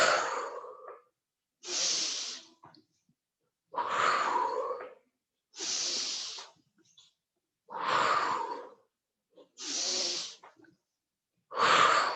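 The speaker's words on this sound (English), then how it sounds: "Inhale out, exhale in." Slow, deliberate breaths during a yoga flow, about six clear inhale-exhale cycles in a steady rhythm with short pauses between them, close and fairly soft, with no talking.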